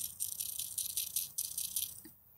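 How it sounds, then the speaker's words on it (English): A dry yellow rattle seed head shaken close by, its flat disc-like seeds producing a soft papery rattle in quick pulsing bursts that stop abruptly near the end. "You can hear it rattling really nicely, the seed in there."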